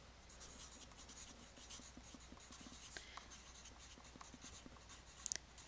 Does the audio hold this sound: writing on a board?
yes